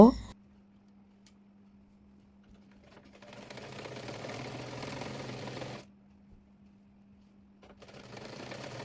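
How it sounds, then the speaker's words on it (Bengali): A sewing machine runs in steady bursts while stitching the side of a bolster pillow cover, with a long run of whirring in the middle and another starting at the end, over a low constant hum. "অপর পাশটি সেলাই করে নেব"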